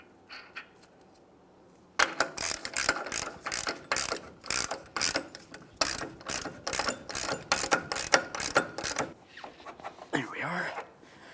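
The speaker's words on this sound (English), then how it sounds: "When you go to install your axle nut, you only want to do this with a hand tool." Ratchet hand tool snugging an axle nut on a 2008-2017 Mitsubishi Lancer, loud rapid clicking strokes in repeated bursts after a quiet start, close by.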